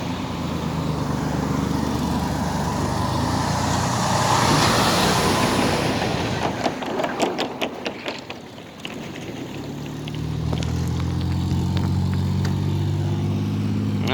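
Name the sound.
loud trucks driving by on road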